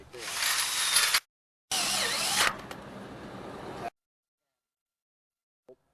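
A power drill driving self-drilling screws through a steel web bracket at the roof peak of a steel building, two loud sustained whirring bursts with a brief pause between, then silence.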